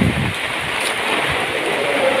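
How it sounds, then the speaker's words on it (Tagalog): A strong wind and rain storm roars as a dense, steady wash of noise, loud and close throughout a short stretch with no voices. "Lakas ng hangin."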